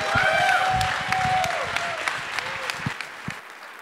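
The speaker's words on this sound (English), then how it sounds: "Give a huge round of applause for everybody's favorite hero dev" Audience applause at the ng-conf 2022 keynote for a speaker coming on stage: a dense, steady wash of clapping from a large crowd, loud at first and easing slightly toward the end, with a few whistles mixed in.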